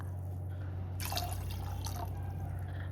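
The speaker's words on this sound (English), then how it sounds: "Add 3 cups of water to this" Water pours onto drained soaked white chickpeas in a pressure cooker, a brief close splashing pour about one second long over a steady low background hum.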